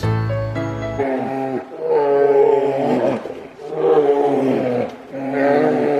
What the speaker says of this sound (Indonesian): Wow, beruang.